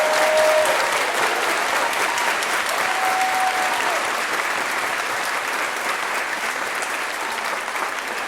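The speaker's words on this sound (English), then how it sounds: "round of applause." Sustained, dense applause from the friends and families of graduates at a 2017 NYSID commencement ceremony, steady and loud throughout without a break.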